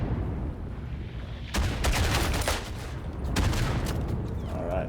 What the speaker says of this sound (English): That is a lot of artillery fire.